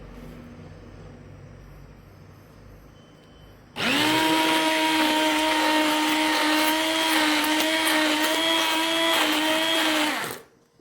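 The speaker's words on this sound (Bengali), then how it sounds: "এই হ্যান্ড ব্লেন্ডারটা দিয়ে এটা আরেকটু ভালো করে গুলিয়ে নিব।" A hand blender whirs in dhokla batter. After a few seconds of quiet it starts abruptly, runs loud and steady at a high-pitched buzz for about seven seconds, then stops sharply.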